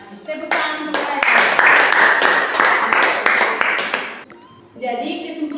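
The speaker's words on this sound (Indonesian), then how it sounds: "Tepuk tangan untuk mereka." A classroom group applauds a student presentation group, loud hand clapping that swells, holds for about four seconds, then fades out before a voice begins speaking.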